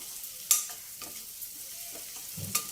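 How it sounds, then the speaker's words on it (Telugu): Onion frying in a pan as a radish-leaf vadiyala pulusu is being cooked, a low steady sizzle with a few sharp scrapes and clinks of a spoon against the pan, close and fairly quiet, no talking. "వేగిపోయిందండి ఉల్లిపాయ"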